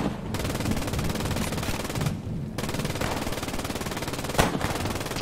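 Sustained machine-gun fire from the World War II shooter Post Scriptum, a continuous loud rattle of rapid shots with two brief pauses and no talking.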